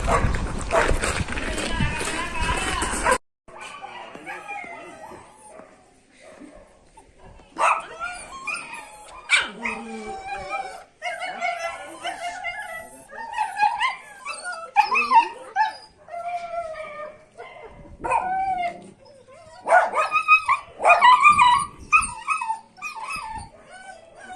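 Dogs at an animal shelter bark, yip and whimper in repeated bursts, close and loud, following a brief noisy opening.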